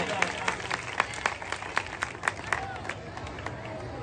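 Applause for the volunteers rises from a crowd at the Sadhubela Teerath Baba Banakhandi mela, with rhythmic claps ringing out close and steady for a few seconds amid light crowd noise.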